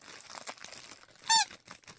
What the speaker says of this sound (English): some squeaky bread loaves for when kitty craves the dough